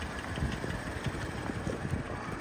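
A Subaru FRS engine idles through its exhaust muffler, a steady low rumbling burble with soft irregular pulses, close and continuous throughout.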